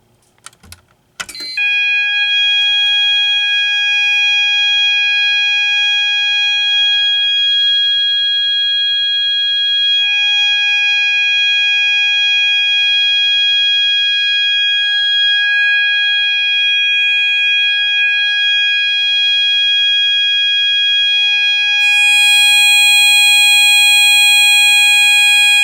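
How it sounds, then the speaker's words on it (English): A smoke detector sounds through its test switch, giving one continuous, very loud, shrill electronic tone that holds steady for over twenty seconds after a brief click at the start, with no talk. "test the smoke detector, or we can use the test switch on it"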